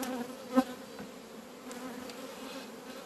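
Honeybees in an opened hive give a soft, continuous droning buzz, with one brief louder insect passing close.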